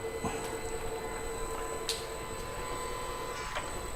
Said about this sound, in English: Reverse the lathe, pick up our mark, and get ourselves prepped for the next pass.